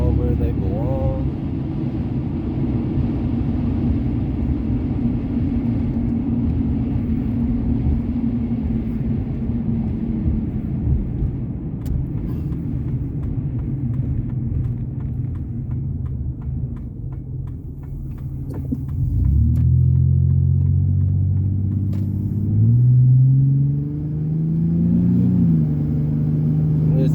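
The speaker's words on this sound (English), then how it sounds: "This is maybe medium throttle. Got some nice shifts there." 2003 Ford Ranger with a swapped 4.0L SOHC engine driving at medium throttle, a steady engine and road rumble with audible gear shifts late on as the engine note drops and rises again.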